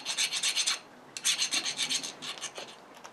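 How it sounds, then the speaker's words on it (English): A hand file rasps burrs off a machined metal part in quick rhythmic strokes, one run of about eight strokes, a short pause, then another run, close and fairly quiet. "I just take the burrs off this one"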